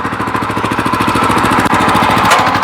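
A Weima Deluxe walk-behind tractor engine runs close by, loud and steady, its rapid regular firing pulses chugging continuously with a brief dip partway through.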